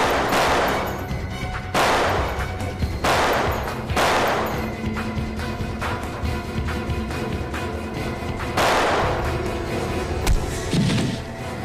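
Gunfire erupts in a TV crime-drama shootout, with several sharp, loud bursts spaced a second or two apart over a constant rumbling, chaotic action soundtrack, with no talking.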